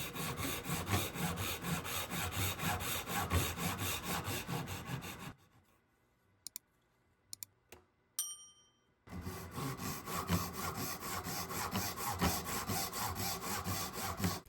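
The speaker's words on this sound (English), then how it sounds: "the sound of the saw teeth as they slowly cut through the fibers of the wood" A hand saw rasps steadily back and forth through wood in even rhythmic strokes, pausing midway for a few light taps before sawing resumes.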